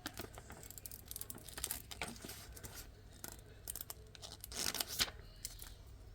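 Scissors cut through sheets of sublimation paper for a mug design, giving close, quiet snips and crisp crinkling and rustling in short irregular bursts.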